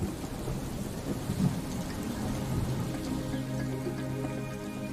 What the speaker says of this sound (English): Violent storms can erupt at any time.